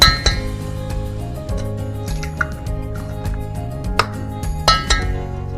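Eggs go into creamy double chocolate chip cookie batter in a mixing bowl, with several light clinks and taps against the bowl over steady background music.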